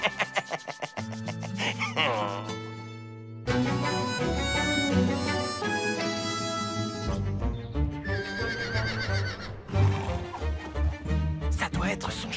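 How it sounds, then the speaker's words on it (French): A horse whinnies loudly several times among music and clopping hooves, with voices speaking over parts of it. "Ça doit être son cheval"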